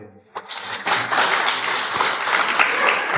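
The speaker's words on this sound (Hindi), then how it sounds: "अब तालियां बजा ले।" Audience at a spiritual discourse on Lord Mahavira begins clapping after a brief voice, the scattered first claps building into a steady, moderately loud applause.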